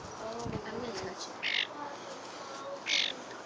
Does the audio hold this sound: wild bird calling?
yes